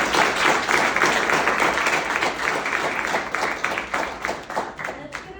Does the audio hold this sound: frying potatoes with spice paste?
no